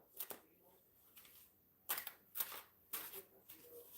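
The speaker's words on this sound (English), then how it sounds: "One more shuffle." Tarot cards being shuffled during a reading, with several short, crisp riffling bursts spaced irregularly and heard up close at low volume.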